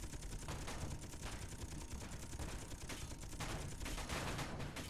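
Rapid gunfire striking a ship during a space battle in the game Space Engineers, a dense continuous rattle of hits and bursts, fairly quiet but unbroken across the whole stretch.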